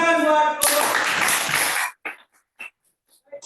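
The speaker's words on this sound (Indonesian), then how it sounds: "Tepuk tangan buat kelompok." A classroom of students gives a student group a short burst of applause lasting just over a second, followed by quiet and a few scattered taps and sounds.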